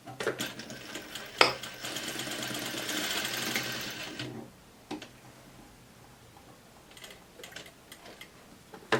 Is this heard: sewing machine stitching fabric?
yes